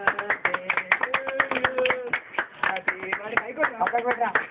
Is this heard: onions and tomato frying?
no